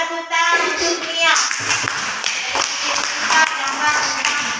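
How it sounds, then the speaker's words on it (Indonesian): Classroom of first-grade pupils clapping for a classmate, a burst of quick hand claps following brief talk, with children's voices and the teacher's speech mixed in over the clapping. "tepuk tangan untuk Mia"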